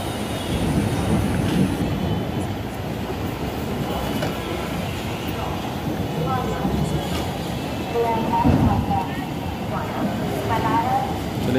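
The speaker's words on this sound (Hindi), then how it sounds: "अब हमारी ट्रेन वाराणसी जंक्शन पर पहुंचने वाली है" An onboard express train rolls into Varanasi Junction, giving a continuous loud rumble and rattle of carriages, with people talking over it throughout.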